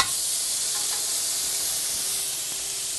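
Pork tenderloin hitting a grill heated to 500 degrees, a loud, constant close hiss of sizzling and steam that holds steady throughout without speech.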